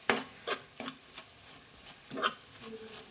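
Spoon stirring ingredients around a pan on the stove, a string of soft scraping strokes with a faint sizzle beneath, quiet and close with gaps between the strokes.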